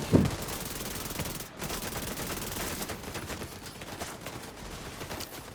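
SMG fire in The Division 2, a dense rattling burst of rapid shots with a brief gap, then continuing fire at moderate level amid game noise.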